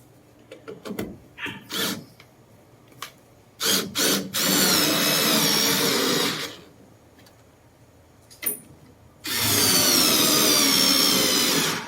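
Cordless power drill driving screws into an LED tail light on a 2013 Ford F-150, in several short bursts and then two sustained whirring runs, close and loud with no talk.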